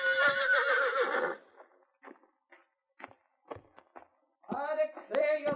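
A horse whinnies loudly and at length, then soft hoof clops and knocks follow before a second shrill neigh rings out close by.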